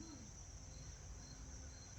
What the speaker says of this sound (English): We do have a cricket. Can you hear a cricket?